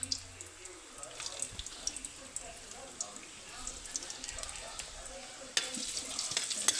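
Ginger hitting hot cooking oil, ready for ginisang patola with sardines and sotanghon, gives a steady soft sizzle with faint stirring, then a louder hiss near the end; a voice speaks quietly over it.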